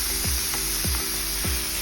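Pork steak searing in a dry non-stick pan with no oil, a steady sizzle and hiss with a few brief low knocks as the meat shifts, close and continuous.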